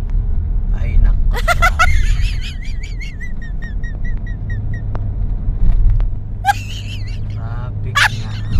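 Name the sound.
road traffic, cars moving slowly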